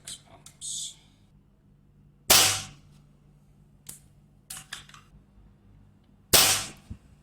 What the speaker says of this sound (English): it's our first shot at 6 pumps.